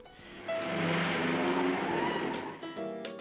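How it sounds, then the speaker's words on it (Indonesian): In a film scene, a taxi speeds away with its tires skidding: a loud, sustained screech and engine roar that swells, dips briefly, then continues, with no talk over it. "Dengan terpaksa Django pun kembali mengambil taksi dan berusaha kabur dengan mobil itu"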